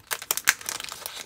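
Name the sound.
rustling plastic bag during model kit unboxing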